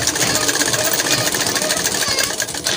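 Sewing machine stitching and lock-stitching a trouser pocket seam, a steady close whirring drone running without pause throughout.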